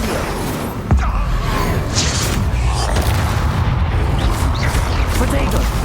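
A fiery Incendio spell blast in the Hogwarts Legacy video game bursts with a sharp onset, then leaves a loud, sustained roaring rumble of combat noise for several seconds.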